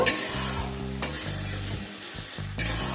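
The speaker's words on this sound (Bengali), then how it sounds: "ভালোভাবে পেঁয়াজটাকে ভেজে নেব।" Ground onion paste sizzling and frying in hot oil as a spoon stirs and scrapes the pan for a fish curry, a steady close crackle broken by a few louder scraping strokes, with no talk.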